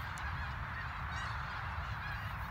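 Geese honk outdoors around midday on Christmas Day, a few scattered, fairly faint calls carried over a low, steady outdoor rumble with no talking.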